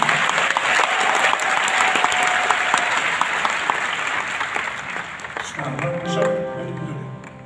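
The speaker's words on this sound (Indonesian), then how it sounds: "Berikan tepuk tangan kepada Tuhan." Pentecost church congregation applauding, a broad wash of crowd clapping that thins out toward the end as a voice and musical tones come in underneath.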